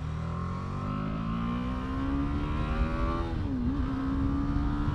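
A BMW G 310 GS motorcycle engine revs steadily, its pitch climbing slowly then dipping briefly before rising again, loud and close with a buzzy, harmonic drone.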